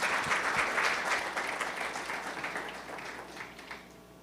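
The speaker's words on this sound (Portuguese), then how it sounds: "vamos receber com uma salva de palmas" Audience applause at a grain-industry seminar on pest risk analysis in Santos, a steady crowd clapping that starts full and slowly thins and fades over a few seconds.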